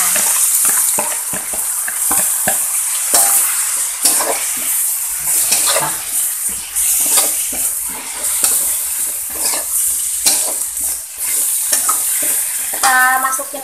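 Bitter melon and small dried shrimp stir-fried in a pan give a constant loud sizzle, broken by repeated scraping and clattering strokes of a spatula against the pan, with a short wet splash near the end.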